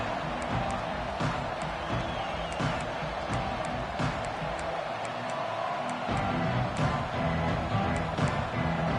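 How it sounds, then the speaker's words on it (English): Football stadium crowd at an LSU versus Alabama game, a steady loud roar of cheering with scattered sharp claps and whoops, continuous throughout and close around. "This crowd ready to make its presence known."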